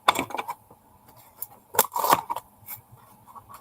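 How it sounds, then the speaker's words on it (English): Scissors snip and click a few times at close range cutting packaging, with sharp cutting sounds and faint rustling in between, fairly quiet overall. "here's a pair of scissors"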